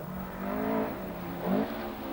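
A 2-litre Ford Escort RS 1600 rally car engine revs hard, its tone rising and falling in two swells as it climbs through the revs, steady and fairly close.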